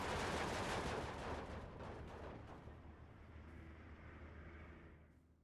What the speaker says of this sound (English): See, double BF-109 coming in for the strafing runs instead of the PE-2 that's dropping bombs on the Schutzen here